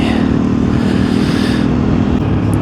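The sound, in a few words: Hero Xpulse 210 motorcycle riding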